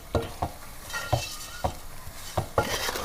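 A spoon stirs fish pickle masala with salt and fenugreek powder in a pan, giving about six distinct scraping strokes at an uneven pace, close and clear over a faint sizzle, with no talk.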